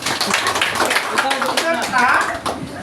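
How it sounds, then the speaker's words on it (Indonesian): A group claps hands in a classroom lesson, a dense, steady patter of many hands lasting throughout, with a voice talking over it. "Tepuk tangan untuk semua dulu."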